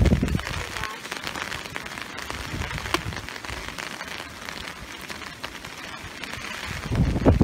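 Heavy rain pelts down in strong wind during dam building outdoors, a dense steady hiss of drops on surfaces with gusty buffeting swelling near the start and end, loud and close, no clear talking.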